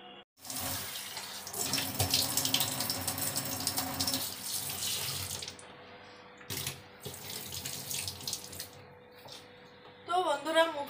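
Tap water runs steadily into a sink while a face is washed, a continuous loud splashing flow that stops briefly and resumes with a few final splashes and drips near the end.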